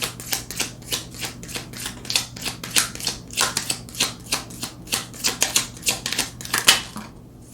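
Tarot cards being shuffled and drawn, a rapid run of crisp papery snaps and taps in an uneven rhythm, close and fairly clear over a low steady hum, with no talking.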